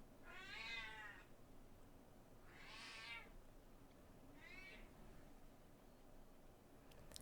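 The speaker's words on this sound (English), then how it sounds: "My cat is still howling." A pet cat howls in three drawn-out, wavering meows spaced a second or two apart, somewhat distant and faint against a steady background hiss, with no talk.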